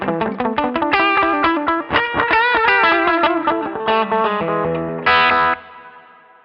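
An electric guitar plays a quick run of chords and notes through a Boss DM-2 analog delay pedal, loud and close with a driven, chorused edge, ending on a sustained chord that fades into soft repeats.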